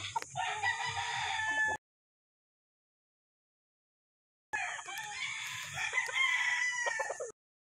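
A Mt. Banahaw rooster crows on a chicken farm: two loud, close crowing calls separated by a few seconds of silence, each a strained, drawn-out cry over faint background clucking.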